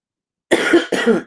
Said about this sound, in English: oh God, this cough.